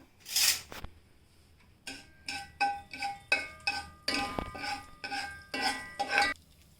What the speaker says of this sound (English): Now my mustard is spluttering.